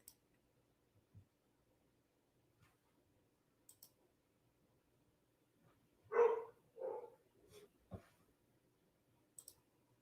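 Puppies give a couple of short, muffled barks and yelps during a lightning storm, set in an otherwise quiet stretch with scattered faint clicks and no talking.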